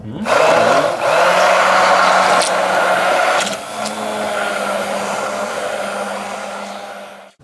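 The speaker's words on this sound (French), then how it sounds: "La seule chose qui reste à faire c'est de mixer" A blender mixes chocolate batter for a Christmas log. The motor whirs loud and steady close by, then drops to a slightly lower, even drone until it cuts off at the end.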